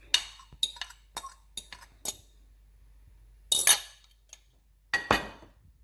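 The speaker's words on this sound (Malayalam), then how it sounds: "എടുത്ത് വെച്ചിരിക്കുന്ന 2 മുട്ട ജസ്റ്റ് ഒന്ന് മിക്സ് ചെയ്തിട്ട് നമുക്ക് ഈ പൊട്ടറ്റോയിലേക്ക് ഒഴിച്ചു കൊടുക്കാം." A fork whisks two eggs in a bowl, giving quick bursts of light metallic clinks and taps separated by short pauses, close and fairly quiet.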